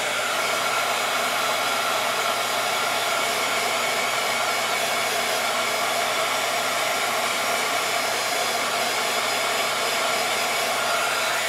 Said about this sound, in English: I'm just going to grab my heat tool quick and try and set that gold ink